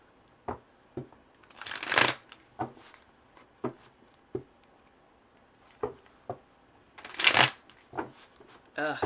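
Playing cards being shuffled close up, with repeated riffling bursts and sharp taps and snaps between them in a loose rhythm, with a voice speaking in places.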